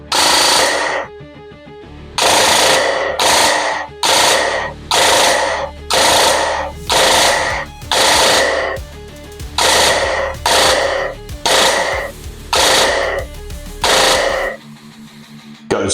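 A JingJi SLR B56 airsoft gun with an upgraded metal gearbox fires about a dozen rapid full-auto bursts at close range, each separated by a short pause, until the magazine runs empty.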